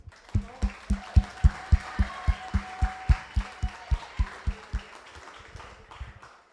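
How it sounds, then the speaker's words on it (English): Rhythmic, loud audience clapping in a steady beat at an end-of-season celebration, about sixteen strong claps, slowing and fading out toward the end. "give him a round of applause, please"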